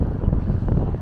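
Wind buffets the microphone outdoors beside a barbecue restaurant, a close, loud rumbling roar filling the whole second without any break.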